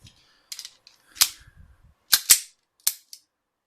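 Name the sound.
clearing a pistol double feed, dropping magazine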